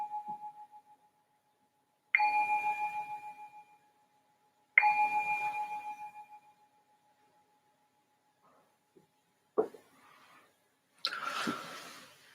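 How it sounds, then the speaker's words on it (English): A meditation bell is rung to open a guided session: two clear strikes, each ringing out in a long, slowly fading tone, after the tail of an earlier ring. A few faint small knocks and a soft rustle follow in the quiet. "I'm going to ring this bell to signal the start of the session."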